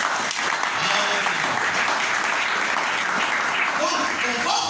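A church congregation applauds God during a French-language sermon, steady, dense clapping filling the whole stretch at close range, with a few voices mixed into the crowd.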